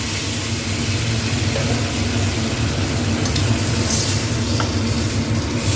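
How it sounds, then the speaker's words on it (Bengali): Steady, loud sizzling from vegetables frying in a pan for Bengali dudh shukto, with water poured in, a continuous hiss and crackle throughout with no talk. "পরিমাণ মতো জল দিয়ে দেবো।"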